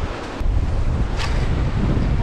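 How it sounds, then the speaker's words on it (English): Loud, steady wind on a fishing trip buffeting the microphone with a deep rumbling roar, surf-like wash behind it, continuous throughout with no talking. "It's too windy for a stick bait even."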